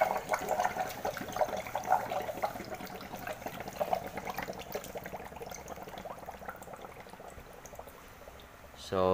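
Water gurgles and rushes steadily through a Condura two-door refrigerator's system while being flushed clean, a continuous watery churn that fades slightly toward the end.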